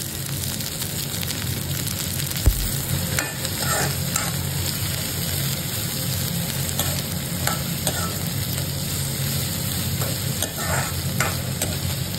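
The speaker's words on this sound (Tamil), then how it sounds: "கடுகு, அடுத்து உளுந்த பருப்பு, அப்புறம் கொஞ்சம் வெங்காயம், அப்புறம் வந்து கருவேப்பிலை போட்டு நம்ம வணக்க போகிறோம்" Mustard seeds, urad dal, onion and curry leaves fry and sizzle in a pan for a pumpkin-style snake gourd kootu, a steady crackling hiss with scattered pops and spoon stirring throughout, close and continuous with no talk.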